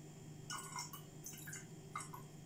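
Water being poured into a bottle holding oil for a homemade lava lamp, faint trickling and dripping in short bursts over a low steady hum.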